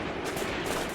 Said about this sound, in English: my heavy machine guns did a number on them here